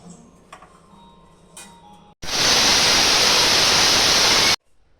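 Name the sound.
pressure cooker whistling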